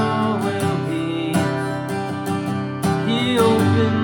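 An acoustic guitar strums the worship song House Of The Lord at full speed, with steady, ringing chords and clear strokes close up and alone, no voices.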